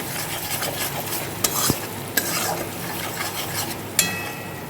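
Cumin powder stirred into frying spices for a Bengali muri ghonto, a steady scrape-and-sizzle with a few sharp clinks of the spoon against the pan, close and clear with no talking.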